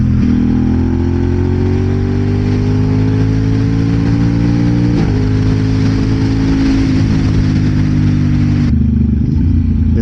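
An Aprilia RS 660 motorcycle engine drones steadily and loudly up close, its tone climbing gradually as the throttle opens, then shifting and easing near the end.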